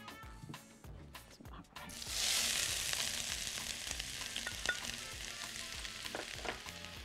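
A large onion hits hot oil in a pan and bursts into a loud, steady sizzle that continues for several seconds, with light stirring ticks over it, after some quieter kitchen handling at the start.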